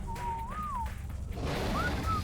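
A whistle command in the video game ARK: Extinction, two short rising-and-falling whistled tones separated by a gap, heard over a constant low rumble of game background noise.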